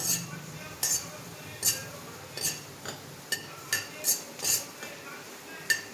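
Turmeric dry-roasting in a pan for a traditional homemade onion-garlic masala, with sharp metallic clinks and scrapes of a spatula against the pan at irregular intervals over a faint background hiss.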